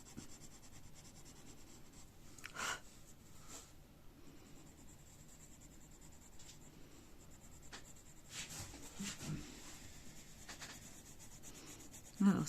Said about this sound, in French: Sur mon bord là, à l'intérieur ici, j'appuie un peu plus sur mon crayon